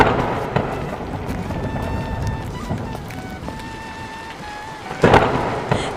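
Heavy nighttime rain pours steadily with a low rumble of thunder, and a loud crack near the end; faint tonal sounds drift underneath.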